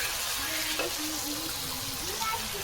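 Spices with dried red chilli fry and sizzle in a pan over a wood fire, a steady close hiss that runs through the clip with some stirring.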